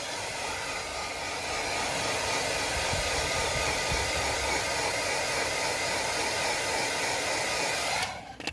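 A hair dryer blows hot air onto the badge of a 2008 Vauxhall Astra H to loosen it, a loud steady whooshing hiss held close for several seconds before it cuts off abruptly near the end.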